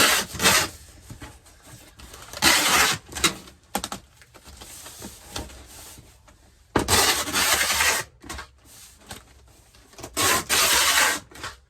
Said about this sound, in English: you're going to take your tape gun and add a ton of tape